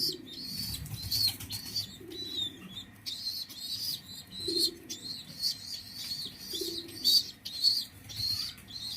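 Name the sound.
pigeons feeding their chicks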